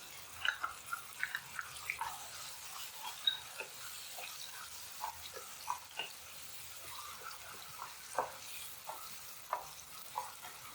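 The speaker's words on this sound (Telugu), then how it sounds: "మెత్తని పేస్ట్ ఉల్లిపాయ పేస్ట్ రెడీ చేసుకున్నాం కదా అది వేసుకోండి" Onion paste fries in a pan for a South Indian prawn curry, giving a soft steady sizzle. Short, regular scraping stir strokes cut through it, close up, with no talking.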